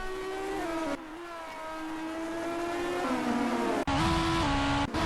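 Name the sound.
race car engines on the main straight, from a racing video game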